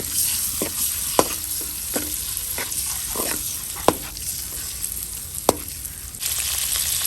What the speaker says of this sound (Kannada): ಜಸ್ಟ್ 1 ನಿಮಿಷ ಇದನ್ನು ರೋಸ್ಟ್ ಮಾಡಿದರೆ ಸಾಕು, ಜಾಸ್ತಿ ರೋಸ್ಟ್ ಮಾಡೋದೇನು ಬೇಡ.